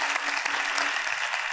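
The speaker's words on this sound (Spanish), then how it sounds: "Pido un aplauso." Brief, steady audience applause at a physiotherapy conference panel, a dense continuous clatter of many hands at moderate distance.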